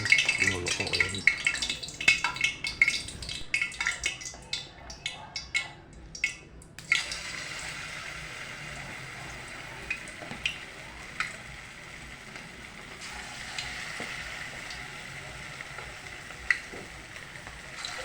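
Bola bola meatballs frying in hot oil, a steady crackling sizzle that follows clattery pan handling and stays moderate and continuous under faint background noise.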